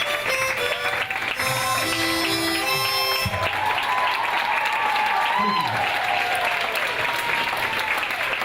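An audience at a women's success summit in Miami breaks into loud, sustained applause as the last harmonica notes fade, the clapping dense and steady to the end with a few voices mixed in.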